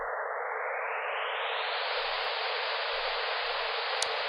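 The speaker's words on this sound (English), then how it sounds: "this is what even pink noise, even frequency, even energy per octave sounds like." A pink noise test signal plays as a continuous, even hiss. Its band of noise widens upward as the upper range sweeps higher partway through, then it holds steady at a moderate level.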